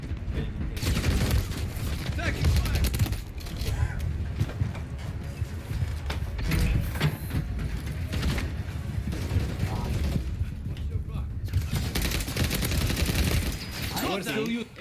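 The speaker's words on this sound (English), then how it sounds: "Taking fire." Bursts of automatic gunfire and explosions in Call of Duty: Modern Warfare 3, loud and nearly constant with brief lulls, game voices and talking mixed in.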